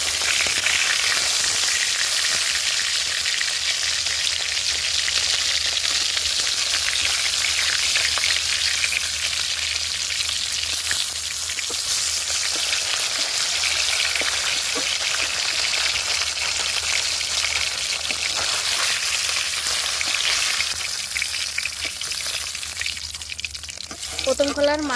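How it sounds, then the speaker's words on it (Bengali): Fish sizzles and spits in hot oil in a pan, a dense, steady frying hiss that runs throughout, with a few clinks near the end and no talking. "আমি এদিকে মাছ ভাজা করছি"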